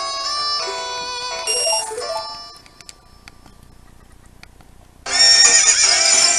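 Epona the horse from a Zelda game whinnies twice in quick succession, loud and near, with a quieter pause and a few faint ticks before a second bright, shrill neigh bursts in at full strength.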